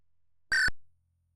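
A single loud crow-like caw from a video game, brief and close, standing alone against near silence.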